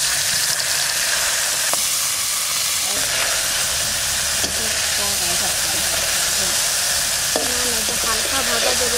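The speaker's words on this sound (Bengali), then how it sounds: "এই মাছ কটা ভেজে নেবো এবার," Small freshwater fish frying in hot oil in a pan, a loud, continuous hissing sizzle with occasional utensil scrapes and faint voices in the background.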